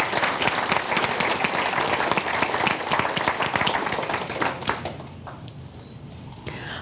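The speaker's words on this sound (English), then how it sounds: "I think they need another round of applause." An audience applauding at a city's State of the City address, dense, steady clapping that thins and fades out toward the end, fairly close.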